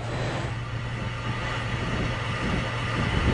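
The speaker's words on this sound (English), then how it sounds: "They got the steam hissing again by injecting water into the steam field." Steady steam hiss from the Bottle Rock geothermal power plant, a continuous broad rushing noise with a low constant hum beneath, moderately loud and unbroken, no voices.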